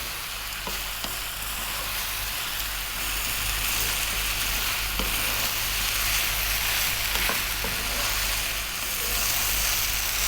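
Fried rice sizzles hard in a pan over maximum heat, a loud, steady hiss with occasional light clicks as it is stirred. No one speaks.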